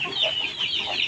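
Mixed flock of month-old chickens on a pig farm clucking continuously, several birds close by with overlapping calls and no talk.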